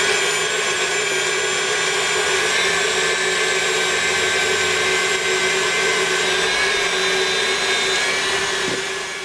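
Electric mixer whisking egg whites toward stiff peaks: a steady, loud whirring drone that holds constant throughout with no voices, tapering slightly at the very end.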